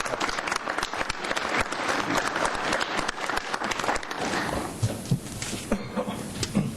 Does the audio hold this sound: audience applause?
yes